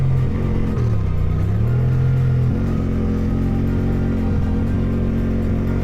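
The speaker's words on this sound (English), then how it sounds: "A bit of a full throttle in second gear." Chinese adventure motorcycle held at full throttle in second gear, a loud continuous engine drone whose pitch swoops down and back up, then settles into a steady strained roar with no voices.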